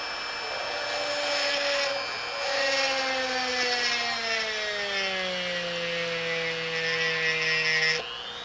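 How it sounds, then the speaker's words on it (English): An electric drill bores into the rivet of a Hot Wheels Redline Hot Heap die-cast car, its motor whine steady and then dropping in pitch as it bites and slows under load, cutting off near the end. "let's drill."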